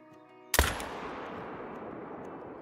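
A .300 Magnum rifle fires once at a whitetail buck in a hunting video game, a single sharp, loud report followed by a long rolling echo that decays slowly over quiet ambient background.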